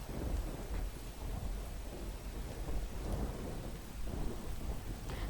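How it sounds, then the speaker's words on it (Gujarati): Heavy monsoon rain pours down in Dediapada, Narmada, a dense continuous hiss with low rumbles of thunder rolling underneath, steady and fairly distant throughout. "નર્મદામાં ધોધમાર વરસાદ વરસી રહ્યો છે"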